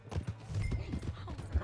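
Horse hooves clip-clop in a rhythmic, fairly quiet patter in the Red Dead Redemption 2 video game, with a voice speaking briefly over the trotting.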